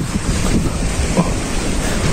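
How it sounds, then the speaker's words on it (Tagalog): Rough sea surf rolls against the shore at a fishing spot, a loud, continuous roar of waves mixed with wind buffeting the microphone. "Malakas ngayon ng dagat kaya dito lang ako sa may tapat."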